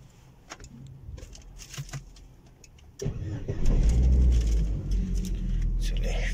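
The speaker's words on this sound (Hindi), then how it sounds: "गाड़ी तो स्टार्ट हो गई" A car engine cranks and catches after a few seconds, then settles into a steady, fairly loud idle, with light clicks and key sounds before it in a quiet market-bound setting in Saudi Arabia.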